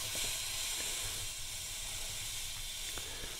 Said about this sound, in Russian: Водичкой сперва скипятить надо.